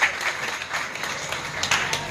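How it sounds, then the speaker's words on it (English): An audience at a formal speech event with the Prime Minister of St. Vincent and the Grenadines gives a round of applause: continuous, moderately loud clapping from a crowd, with a voice speaking over it. "I think one big round of applause."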